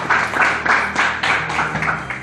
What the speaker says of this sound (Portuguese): E a igreja sempre aplaudindo o Senhor.